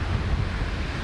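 Strong wind buffeting the microphone at a white-sand beach in Playa Zapotillal, Costa Rica, a steady low roar mixed with surf, brief and loud with no talk.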